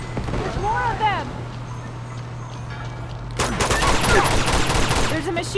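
In the Uncharted 2 urban warfare level, rapid machine gun fire rattles in dense bursts through the second half, after a stretch of voices calling out.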